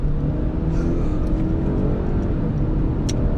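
A 2020 Ford Fusion Titanium AWD with the 2-liter EcoBoost pulling away on the road, heard from inside as a steady low engine drone and road rumble, loud and continuous with no clear rise.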